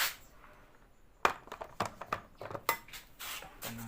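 A metal lid clatters onto a cooking pot with a sharp clank, followed by several lighter clinks and rattles as it is settled in place, close by in a quiet kitchen.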